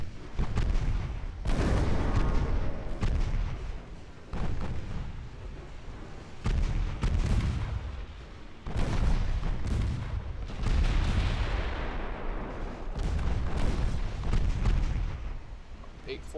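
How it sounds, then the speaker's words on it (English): Naval gun turrets on Japanese Empire warships fire in the naval battle game Ultimate Admiral Dreadnoughts. Repeated heavy cannon booms, some in quick pairs, roll and echo with rumbling tails across several salvos. "fired all 5 double turrets at it"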